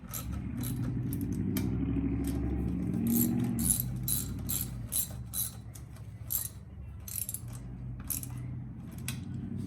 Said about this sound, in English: let me tighten it down. And you ain't gotta go too crazy, tighten these carburetors down